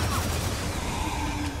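Mulcher guns in the Gears of War 4 campaign rattle in a loud, continuous volley of heavy gunfire with no break.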